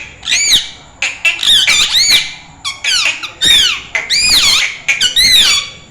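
Pet parrot squawking loudly and up close in a run of shrill, warbling calls, several of them mimicking a spoken word, with short gaps between bursts.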